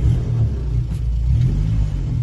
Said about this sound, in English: she starts up very readily on the electric starter